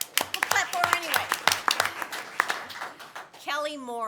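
A small audience at a city council meeting gives sparse, scattered claps, several distinct sharp hand claps spread over a few seconds, mixed with talking voices.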